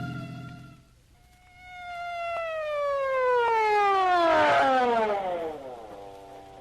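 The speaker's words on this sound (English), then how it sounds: "So why this siren?" A loud siren wails with a long descending sweep, swelling and then trailing off, with no talking over it.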